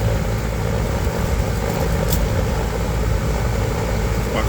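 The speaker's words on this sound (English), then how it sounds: "my compressor turned on" A 5-ton central air conditioning unit's compressor runs steadily close by, a continuous low mechanical hum with broadband whirring noise that holds level and unbroken throughout.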